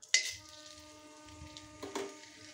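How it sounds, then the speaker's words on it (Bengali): Whole cinnamon, black pepper, cloves and cardamom dropped into hot melted ghee, a sharp clink and brief sizzle at the start, a second small splash near the end, with a low hum underneath. "দারচিনি, গোলমরিচ, লবঙ্গ আর এলাচ সবগুলোকে তেলের মধ্যে দিয়ে দিলাম।"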